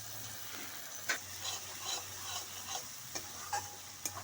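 Green chili paste frying with ginger and garlic paste for a Bengali rohu fish curry with mustard and poppy seed, a soft steady sizzle with faint stirring scrapes and light clicks of a spatula, no talk.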